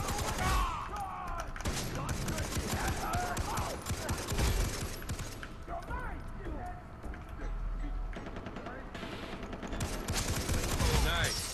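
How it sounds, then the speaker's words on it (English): Bursts of light machine gun fire in a Far Cry 3 co-op match, rattling rapid volleys spread through the clip amid game noise and ongoing player talk. "Headshot from across the map with an LMG."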